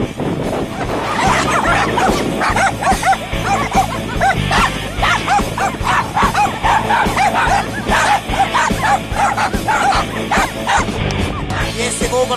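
Several dogs bark, yip and whimper continuously in a loud, overlapping chorus of sharp, rapid calls, close by, with little pause across the whole stretch.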